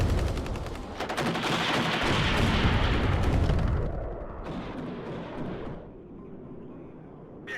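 Gunfire and artillery in the WARNO real-time strategy video game roar as dense, rapid machine-gun bursts with booming blasts, loud at first, then fading into scattered, more distant shots.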